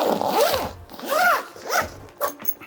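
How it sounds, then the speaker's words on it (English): Quick rasping zips as the doors of a film changing tent are zipped shut, three or four close, sweeping strokes in a row, near and clear with no talk. "I'm gonna zip up both doors"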